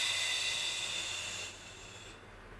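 A long, close, airy exhale during a yoga stretch, a steady hiss that fades and softens toward its end.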